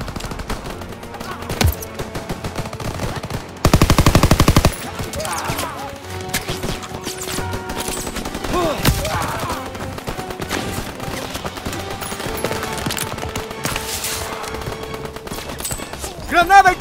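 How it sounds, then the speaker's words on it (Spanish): Machine gun fire in the Call of Duty WW2 game crackles in rapid bursts across a chaotic D-Day battle, with a dense sustained burst near the middle, scattered shots and crashes, and occasional shouting voices. "¡Usen esa ametralladora!"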